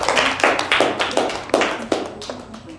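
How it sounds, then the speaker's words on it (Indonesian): A class applauds group 3 in a short burst of rhythmic clapping, several hands beating in near-unison pulses, fairly close and moderately loud. "tepuk tangan untuk kelompok 3"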